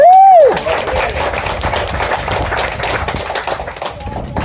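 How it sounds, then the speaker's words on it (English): After a brief tone, a small group applauds the finished assembly of a 1910 Sears car, steady moderate clapping that continues for several seconds alongside a bit of background chatter. "A round of applause"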